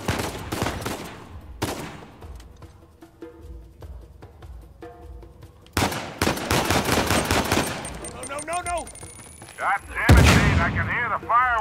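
Pistol fire in the PS4 game Uncharted 4: A Thief's End comes in loud, rapid bursts of shots separated by quieter gaps, with ringing, whistling effects trailing the later volleys.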